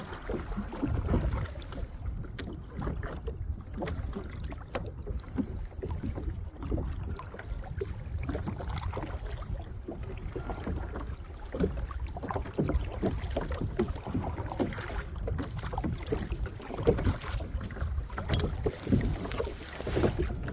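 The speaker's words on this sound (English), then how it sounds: "see what happens if I just try and paddle on the spot here" A kayak paddled in place over a sand patch at Crib Point sends low, continuous water sloshing and wind buffeting up close. No one speaks.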